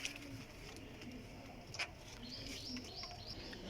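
A golden teddy pigeon, a high-class flying breed, coos softly in a quiet setting, with faint chirps and background hiss and no one speaking.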